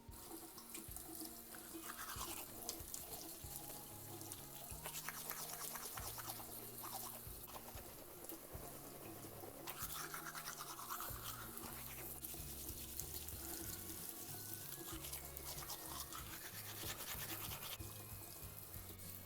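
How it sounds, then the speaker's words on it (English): Teeth being brushed with a toothbrush at a bathroom sink in the morning, running tap water and splashing steady throughout, with low music-like tones underneath and no talking. "On to brushing my teethies."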